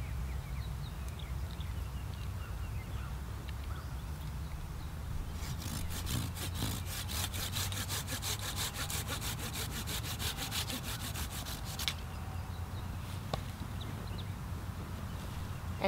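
Handsaw cutting through the woody base of a beetle-infested landscape plant during basal pruning, a steady rapid back-and-forth rasp running from about five to twelve seconds, close and fairly loud, with quieter rubbing before and after.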